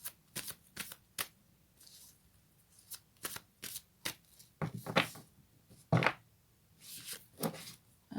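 Fairy tarot cards being shuffled by hand: a run of crisp riffling bursts and soft slaps, close and fairly quiet, with brief pauses between shuffles and no talking.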